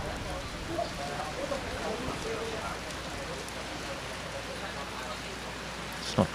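Steady rain falls on a hard surface in a gentle, even hiss of drops throughout, with no talk, ending on a couple of sharper close knocks.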